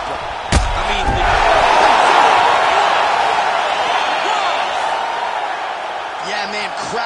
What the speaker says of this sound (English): Yeah, man, crowd loving it.